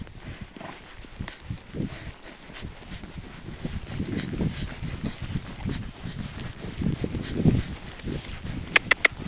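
A horse gallops on a grass track, hoofbeats building to a steady, fairly close drumming rhythm, with a few sharp clicks near the end.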